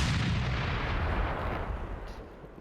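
Mortar firing in Arma Reforger, a video game: a dense, continuous low boom with rumbling blast energy that stays loud through the whole stretch and tapers slightly toward the end, no talking.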